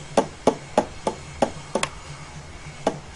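A loose oil pump inside a Ford 1356 transfer case bangs in sharp metallic knocks, about eight irregular hits close by, with no talking.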